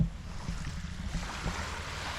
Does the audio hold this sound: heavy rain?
no